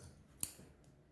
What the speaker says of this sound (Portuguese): Então, eu vou cortar o fio mais uma vez.